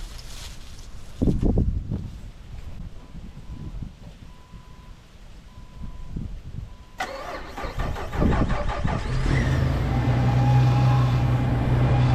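A Jeep Wrangler starts on a cold day: the starter cranks, the engine catches and settles into a steady, loud idle that runs to the end.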